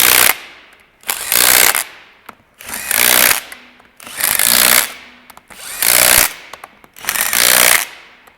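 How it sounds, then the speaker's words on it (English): Air impact gun torquing the bolts on a Subaru five-bolt R160 differential being reassembled with a Torq Locker, firing in six loud, close bursts of about a second each, spaced by short pauses in a crisscross pattern. "torque them down to spec with an air gun, electric gun"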